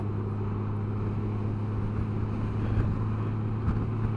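A Honda Gold Wing motorcycle cruises at 70 mph with the windscreen fully raised. Its steady engine drone hums continuously, with a smooth, even tone and light wind rush and no breaks.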